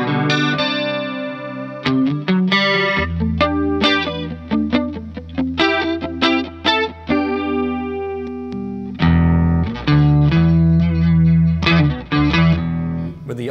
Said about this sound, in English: So let's say I go for like a vibrato kind of thing.